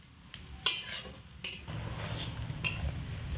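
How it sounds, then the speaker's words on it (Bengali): A spoon stirs coconut barfi mixture with milk in a pan over a low flame, making a few distinct scraping strokes against the metal over a soft, thick bubbling undertone. "ভালো করে নাড়াচাড়া করে নিতে হবে, আর অবশ্যই কিন্তু এই সময় আঁচটাকে হালকা আঁচেই রেখে দিতে হবে।"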